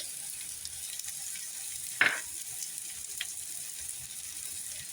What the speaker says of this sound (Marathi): आपला कांदा परतला जात आहे त्याला जास्तही परतून घ्यायचा नाही